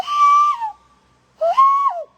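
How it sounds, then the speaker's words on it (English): A person makes two loud hand whistles through cupped hands to call a dog. Each note lasts about half a second and bends up and then down, with a short pause between them and nothing else audible. "if anybody wants to learn how to do the hand whistle"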